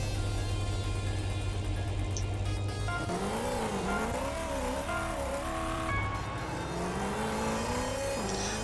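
Race car engine in Horizon Chase Turbo on Nintendo Switch, a steady drone that rises into a revving, wavering whine with wheel spin and tire squeal, loud and continuous without talk.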